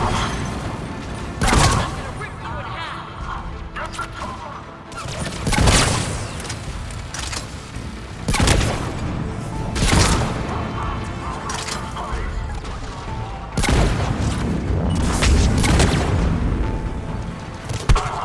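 Turret gunfire and explosions from the video game Mass Effect 3: several loud, broad booming bursts recur every few seconds over continuous rattling battle noise, with a voice talking intermittently.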